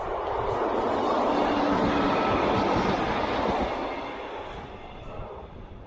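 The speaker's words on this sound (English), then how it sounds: "Yay, train!" A train rumbles past near Topsham, a loud close roar with clattering wheels that swells early and then fades toward the end, with faint squeals on top.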